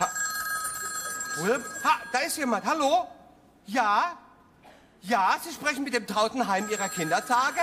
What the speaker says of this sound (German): Nein, das ist das Telefon, was klingelt.